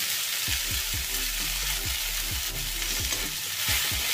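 A loud, steady sizzle of ginger and garlic frying in a pan over low flame, crackling continuously up close, with a low hum underneath and no talking.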